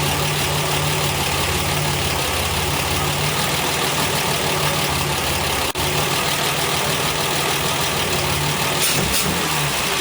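A 1968 MGC engine, just tuned through its SU HS6 carburetors, idles steadily and close up for the whole stretch, a smooth continuous rumble with one brief dip midway and a faint rise near the end.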